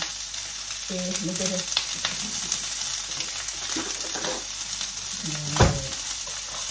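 Mega Sardinas canned sardines cook in a pan with a dense, steady sizzle, broken by a few spoon scrapes and clatters and a brief faint voice-like tone.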